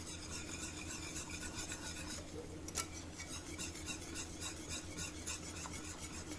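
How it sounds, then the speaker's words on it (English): Flour being whisked into a creamy Alfredo sauce in a pan, a continuous quiet scraping and rasping of the whisk with rhythmic strokes, close and faint, no talking. "And just keep whisking it in because you want that flour to not to lump"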